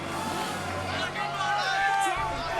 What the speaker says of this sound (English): The crowd now erupting with support for Bepaw right now